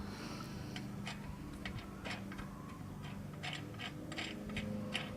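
Lug nuts being loosened by hand on a GMC Envoy wheel, faint scattered metallic ticks and clicks of the threads turning over a low steady background hum.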